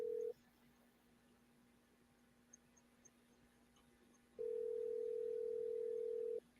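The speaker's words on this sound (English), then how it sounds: "Phone actually ringing, you know." A telephone ringback tone during an outgoing call, one steady tone briefly at the start and another long tone near the end, separated by a quiet line hum.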